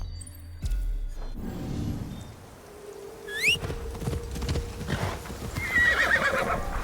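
Horses clip-clop and neigh in a video game, hooves clopping steadily throughout while several whinnies rise over the busy in-game background noise.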